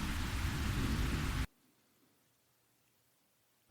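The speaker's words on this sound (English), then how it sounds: "And it is really pouring." Heavy rain pours down in a dense, steady hiss for about a second and a half, then stops abruptly into near silence.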